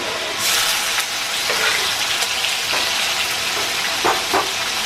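Chopped green chillies and small pieces of garlic fry in a hot pan for a Palakkad-style lunch dish; a steady loud sizzle with occasional stirring scrapes and pops, close by and without talk.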